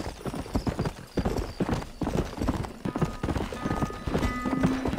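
Rapid, steady clip-clop of horse hooves from Red Dead Redemption on PC, close and loud, with a rhythmic gallop throughout and a faint whinny-like tone near the end.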